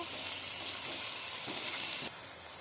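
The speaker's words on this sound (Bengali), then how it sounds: "পেঁয়াজ দিয়ে দিচ্ছি পেঁয়াজটা ভাজা হয়ে গেছে রসুন দিয়ে দিচ্ছি রসুনটা ভেজে নেব" Garlic and onion sizzle steadily in hot oil in a pan, a close, continuous crackling fry with a brief stir near the end, no voices.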